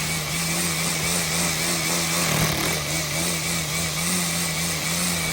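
Ego battery string trimmer held with its head flat, riding along a Bermuda grass lawn edge and skimming the top of the grass; a steady, continuous high whine holds throughout at close range, with no talk.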